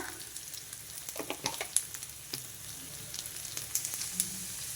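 Onions with cumin and coriander seeds frying for a mushroom masala curry, giving a steady soft sizzle with scattered crackles and a few sharper pops and scrapes of stirring, close up with no talk.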